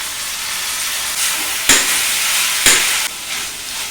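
Cooked long beans hit a pan of softened onions and sizzle loudly and steadily, with a couple of sharp stirring scrapes rising out of the constant frying hiss.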